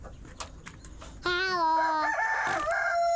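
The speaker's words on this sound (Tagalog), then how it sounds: "Yung manok, ayun o." A rooster crows close by, one long loud harmonic call after a few soft clucks, with a voice calling out over the end.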